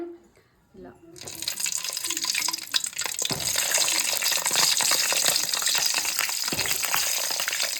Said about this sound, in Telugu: సో ఇలా ఆయిల్ బాగా వేడెక్కాక ఇందులో వంకాయలు వేసేయాలి.